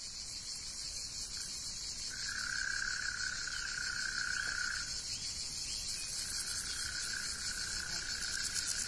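A cicada's steady buzzing trill sounds over a constant high-pitched insect chorus, with two long, loud drawn-out calls rising clearly above the background hiss.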